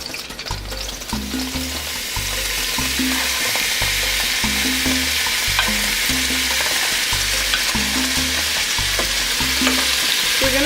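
Seasoned cut-up meat sizzles and fries steadily in a greased pan with olive oil, a loud continuous crackle with a repeating rhythmic stirring or scraping beneath it, no talking.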